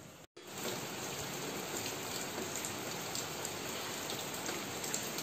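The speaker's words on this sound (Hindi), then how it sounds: "आज हमारे यहाँ पे हो रही है झमाझम बारिश" Heavy rain pours down steadily, a dense, even hiss of drops drumming on surfaces close by that continues without pause after a brief cut at the start, with no voices.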